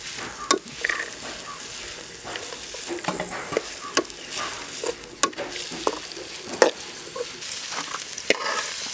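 Onions frying in a pan for chicken pulimunchi, a steady close sizzle broken by regular clicks and scrapes as the mixture is stirred.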